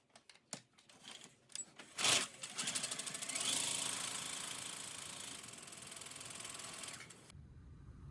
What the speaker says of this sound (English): Next, we're going to sew this together along the back seam.